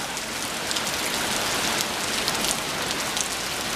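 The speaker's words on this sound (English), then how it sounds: "That is hail, ladies and gentlemen." Hail patters hard and steadily on surfaces all around in an Arizona backyard garden, a dense, continuous clatter with no voices.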